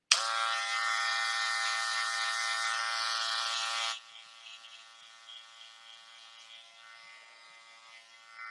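Electric hair clippers, lever open, buzz steadily through a men's textured haircut for about four seconds, loud and close, then drop to a faint hum before a brief rise at the end.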